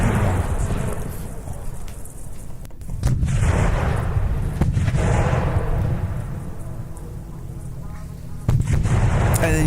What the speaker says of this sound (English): So you hear that explosion, and then you hear the echo, the shockwave traveling away from you.